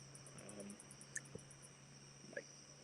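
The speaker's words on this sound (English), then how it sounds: "crickets and such." Outdoors, crickets chirp faintly in a fast, regular pulsing trill that runs steadily through the whole stretch, with a few soft clicks and taps in between.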